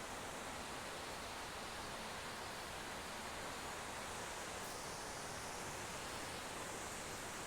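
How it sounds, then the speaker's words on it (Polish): A waterfall in a cedar forest near a temple pours in a steady, dense rushing hiss, faint and unbroken throughout with no other sounds. "Tutaj dochodzimy do mojego ulubionego wodospadu."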